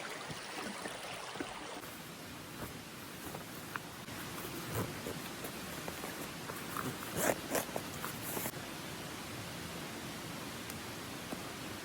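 Repeated zipping and rustling of hiking gaiters being put on close by, in short scratchy pulls, over a steady background hiss like rain or flowing water.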